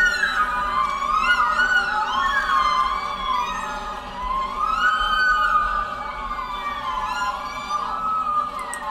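A wailing siren sweeps up and down repeatedly over music in Latvia's Eurovision song "Div dūjiņas" by Maska, loud and continuous for the whole stretch.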